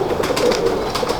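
Pigeons coo softly and continuously up close in a short burst, their low murmuring calls overlapping with no talk.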